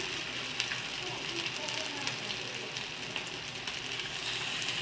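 Crispy rice and chicken kebabs sizzle and crackle while frying in oil. The spattering is continuous and moderately faint, with a faint voice in the background.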